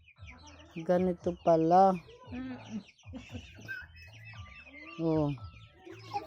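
Native Darag chickens cluck and squawk close by in a pen, in short uneven bursts with some higher calls, while a person speaks briefly.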